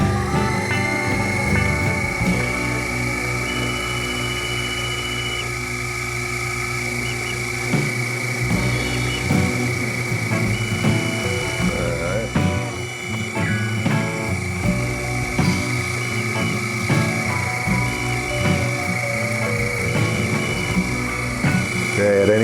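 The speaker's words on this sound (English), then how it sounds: "I'm using a center drill, not a spot drill. A center drill will find center, and then it's going to drill and ream." A CNC Accu-Pro turn lathe runs a center drill into a workpiece, giving a steady machine whine and spindle hum with shifting tonal drones as the drill feeds in, close and continuous.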